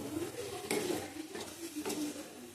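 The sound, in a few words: stir-frying chicken tarka in pot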